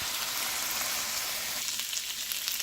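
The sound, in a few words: food frying and being stirred in a pan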